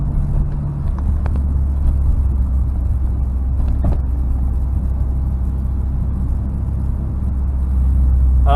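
A 1992 Honda Prelude cruises along a road at about 30 mph, heard from inside the car as a steady low engine and road rumble with faint tyre noise and no talk.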